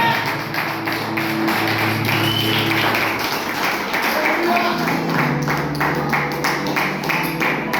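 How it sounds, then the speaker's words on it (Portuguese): Church congregation applauding during a family worship service, a steady broadband wash of many hands clapping with a low hum of voices and music underneath throughout. "Aplausos ao Jesus,"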